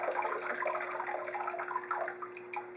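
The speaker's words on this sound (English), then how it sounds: "drain the excess water" Excess water drains from an expanded coconut husk, a steady splashing trickle that runs continuously and eases slightly toward the end.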